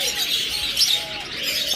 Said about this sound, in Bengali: দেখুন চমৎকার বাজরিগার পাখি রয়েছে আমাদের কাছে